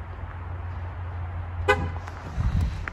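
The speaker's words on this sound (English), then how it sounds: "I lock my truck." A truck's horn gives a single short chirp as it locks, a brief bright toot midway through over a low idling engine rumble and faint outdoor background.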